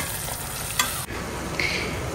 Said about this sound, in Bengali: রাজমার জন্য মশলা কষাচ্ছি। পেঁয়াজ, আদা, টমেটো সবকিছু একসাথে কষিয়ে নিই